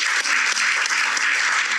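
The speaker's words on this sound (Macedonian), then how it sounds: "Така е, аплауз." A studio audience at a TV game show bursts into dense, continuous clapping that fills the short moment at full loudness, with no voices over it.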